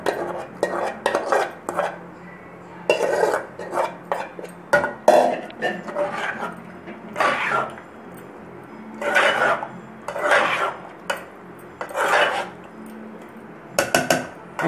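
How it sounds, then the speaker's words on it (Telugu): Mashed prawns are stirred into gongura (sorrel leaves) in a pan: a steady run of metal spoon scrapes, rubs and sharp clinks against the cookware, close and fairly loud, with brief pauses between bursts of mixing. "ఈ మనం మెదుపు పెట్టుకున్న గోంగూరలోకి వేసేయాలి"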